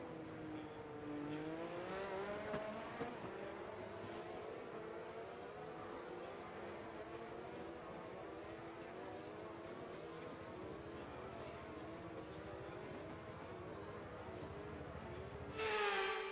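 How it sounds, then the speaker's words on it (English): Formula 1 race cars in the F1 23 video game roll toward the starting grid, a sustained engine whine with shifting pitch lines that stays steady and fairly loud throughout, with a brief harsher burst near the end and no talk. "As the cars come back towards the grid to line up for the start of the race"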